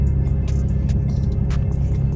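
A Ferrari sports car engine runs with a loud, steady, deep rumble close by, holding an even tone without sharp rev spikes.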